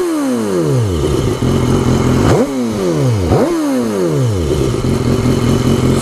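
A BMW S1000R motorcycle with no exhaust baffle revs loudly and close, its engine note dropping after each blip, with two sharp rev surges followed by crackling exhaust pops.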